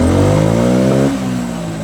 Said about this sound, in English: I can floor it if I want.